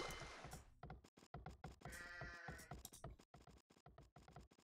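Sheep bleating in a strategy video game, repeated short bleats in quick succession mixed with thunks and hoof-like clatter, fairly faint and continuous with no talking.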